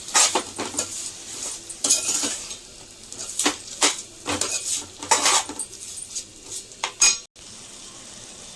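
A spoon scrapes and clinks against a cooking pot as a paste is mixed into sambar rice, with irregular metallic knocks over a faint sizzle, fairly close and with no talk.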